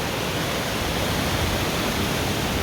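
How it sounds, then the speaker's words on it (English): Waterfall at a natural carbonated water spring in an African village, swollen by the rainy season, roaring as a steady, dense broadband rush close by, unbroken throughout. "Right here we have the waterfall"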